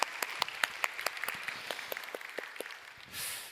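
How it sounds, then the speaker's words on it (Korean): A church congregation applauding after a worship song during a Sunday youth service, a steady patter of many hands clapping that fades out near the end. "박수 한번 하겠습니다"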